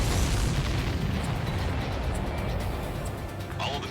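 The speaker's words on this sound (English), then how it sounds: "All of the missiles have been destroyed." Missiles are destroyed in Ace Combat 7, with a dense rumbling wash of booming explosions that stays loud and sustained throughout, close and heavy.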